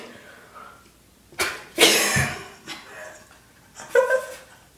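A few harsh bursts of coughing after swallowing a spoonful of cinnamon, close by, separated by short pauses, with quieter breathing and murmurs between them.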